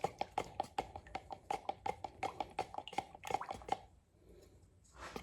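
Epoxy primer stirred with a stick in a slightly dented can, for spraying a 1979 Camaro Z28 fender: quick, wet, squishy clicks in a steady rhythm, close up, then a short pause before a little more scraping.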